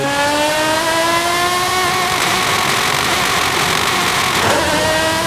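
A loud car engine in Forza Horizon 5 revs continuously, its pitch climbing and dropping through gear shifts, with a harsh high-revving roar throughout.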